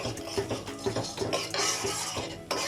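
Tamarind paste stirred in a pot during cooking, a series of soft scraping and clinking utensil strokes against the pan, close and quiet with no talking.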